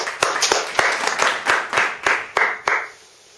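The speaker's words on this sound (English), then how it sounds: "Please give a round of applause for Hans Paul Verhoef." Sparse, slow clapping from a small studio audience during a TV show, about a dozen distinct claps that fade out after roughly three seconds.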